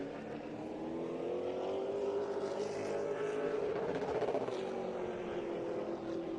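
A CARS Tour Pro Late Model race car laps the Southern National track, its engine a loud, steady drone with a slowly shifting pitch and no break, filling the whole stretch as it runs.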